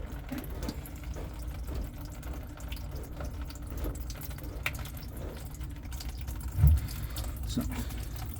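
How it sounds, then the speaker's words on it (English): Water drains steadily down a clogged kitchen sink after a pipe coupling is undone. The low, continuous gurgling and trickling is fairly quiet throughout, with one brief louder splash near the end. "Just let the water drain down."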